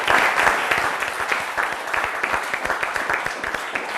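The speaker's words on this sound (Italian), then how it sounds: "che facciamo l'applauso alla Pro Loco di Maiano" Steady applause from a studio audience at a televised quiz show, a dense patter of many hands clapping evenly across the whole stretch with no voices on top.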